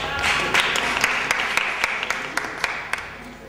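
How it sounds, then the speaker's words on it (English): Audience applause at an education lecture, with scattered sharp individual claps standing out over a softer steady wash of clapping, nearby and fairly loud, no speech. "since you got an applause"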